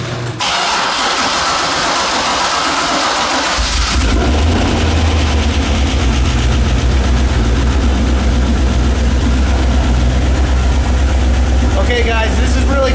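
A Z06 Corvette with a custom-grind cam cranks and fires up in a garage, then settles into a deep, loud, lumpy idle with steady low rumble, people talking over it.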